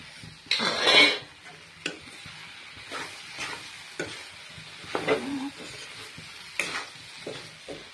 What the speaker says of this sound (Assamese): মিলাই দিওঁ চয়াবিনখিনিও যিহেতু ভাজি থৈছোঁ চয়াবিনখিনিও মিলাই দিওঁ এতিয়া